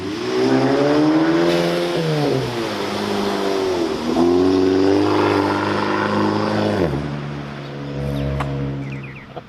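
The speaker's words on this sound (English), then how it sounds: "I haven't seen my car drive yet." A car engine revs and accelerates loudly, pitch climbing through several gear changes, then drops and builds again as the car drives nearby.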